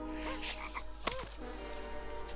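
A single croaking frog call in LEGO Star Wars III: The Clone Wars, with a bending, wobbly pitch, rises over a steady game background hum, brief and fairly close.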